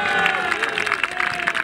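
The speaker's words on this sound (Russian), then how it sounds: "Аплодисменты, друзья!" Crowd cheering and applauding a national team being introduced at a mini-football tournament for consular teams in Sestroretsk, a dense steady roar of clapping and shouts with a voice talking over it.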